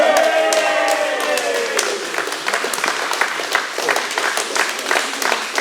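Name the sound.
round of applause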